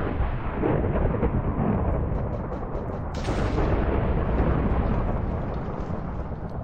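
A lightning strike in Minecraft lands with a loud rumbling crack, followed by a second deep roaring burst midway, both filling the low end in heavy booming thunder.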